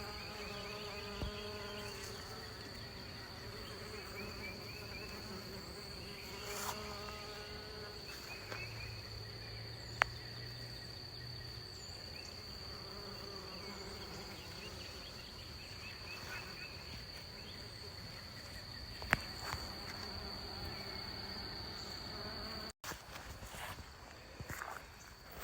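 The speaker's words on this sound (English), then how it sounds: "You can hear these bees, so I'm just going to stop and let you listen just for a minute." Bees buzzing around squash plants in a garden early in the morning, a steady continuous drone with a few louder passes close by, along with insect chirps and an occasional footstep in the background.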